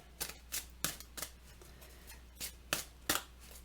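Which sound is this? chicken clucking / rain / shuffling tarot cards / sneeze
shuffling tarot cards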